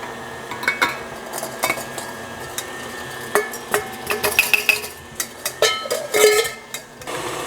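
A utensil clinks and taps irregularly against a bowl while gluten-free cupcake batter is mixed, with sharp, close knocks and scrapes, some in quick clusters.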